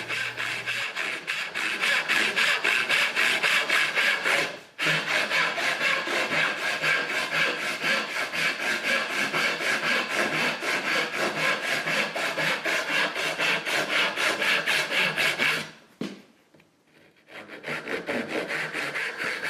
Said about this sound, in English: Now I notice, Andrew, as you're sawing the tails, that you're not slanting the wood